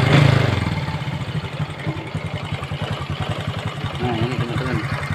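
A Honda Kirana motorcycle engine after a starter coil replacement, starting up close by and settling into a loud, steady, rhythmic idle, with a voice talking briefly over it.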